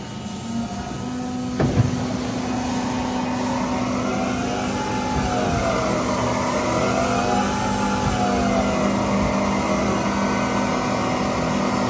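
A Mori Seiki Duraturn 2050 CNC lathe runs steadily with high pressure coolant, giving a continuous hum and hiss that swells and sweeps gently, with a brief clunk near the start.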